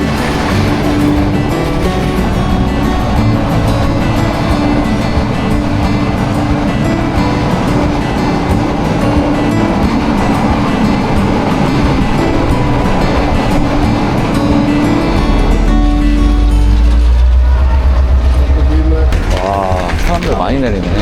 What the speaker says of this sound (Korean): 기차 흔들리는 리듬이랑 바람 소리가 묘하게 잘 맞아요.